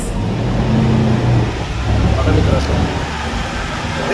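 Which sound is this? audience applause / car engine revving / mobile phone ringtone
car engine revving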